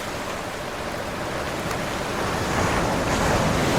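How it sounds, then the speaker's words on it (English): Ocean surf from the video game Shantae and the Pirate's Curse, a steady wash of waves with wind, swelling slightly louder toward the end, heard alone with no talking. "The ocean can be pretty loud."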